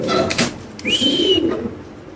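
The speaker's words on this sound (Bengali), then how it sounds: "খুব সুন্দর একটা কবুতর। ডাকটা দেখাই দিলাম" A pigeon at a pigeon farm gives a short, close coo, a low warbling call set against faint background noise and a brief whistling sound.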